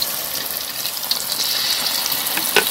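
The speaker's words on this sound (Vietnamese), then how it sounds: "Rồi này mình tiếp tục mình chiên cho hết cái thao bột này" Banana fritters in batter deep frying in a pan of hot oil, giving a steady close hiss and sizzle with faint bubbling throughout.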